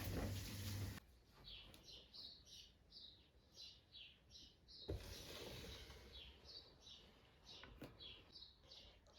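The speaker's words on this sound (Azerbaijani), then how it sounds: "Xanımlar, quşların səsini eşidirsiniz." Birds chirp outside an open kitchen window, in quiet repeated short tweets heard at a distance over a low indoor hum.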